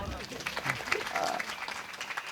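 Audience applause at a Marathi kirtan, a steady wash of hand clapping filling the short stretch, with a speaking voice over it.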